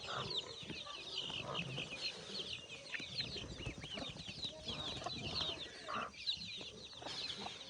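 Native chickens and their chicks on a small farm in Tanay, clucking and peeping continuously in a busy flock, with high chirps layered over lower clucks and occasional wing flaps nearby.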